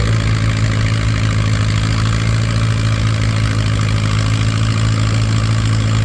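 A WD-45 tractor pulls at an antique tractor pull in Mt. Carroll, Illinois, its engine roaring loud and steady up close with a throbbing low chug that never lets up.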